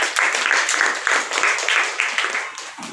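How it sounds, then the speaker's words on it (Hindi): Audience at a school function clapping loudly for a performer, a dense, steady burst of applause close by that lasts throughout and fades slightly at the end. "इसके लिए जोरदार तालियां।"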